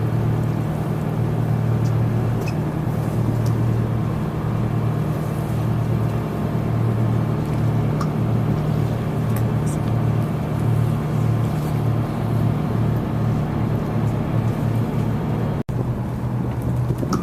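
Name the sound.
boat engine rumble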